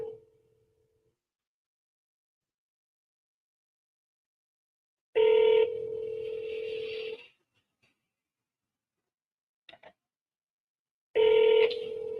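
A telephone ring tone sounds in two long bursts separated by silence, with a faint short blip between them.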